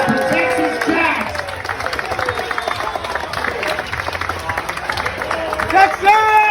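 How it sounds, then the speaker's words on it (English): A crowd at a ribfest award announcement claps and cheers loudly, applause mixed with whoops and excited voices shouting over it throughout. "A big round of applause for Texas Jacks."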